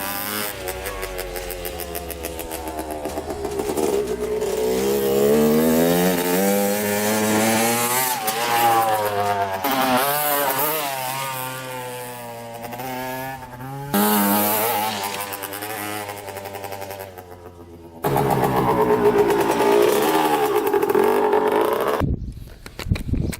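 A Suzuki RM 125 dirt bike engine revs and buzzes loudly as it rides, slightly boggy in low gears, the pitch rising and falling through gear changes, before cutting off at the end.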